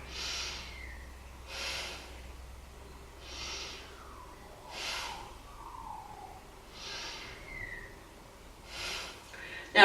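Slow, deliberate breaths held in the warrior 2 yoga pose, about six soft airy inhales and exhales spaced evenly, close and quiet with no talking.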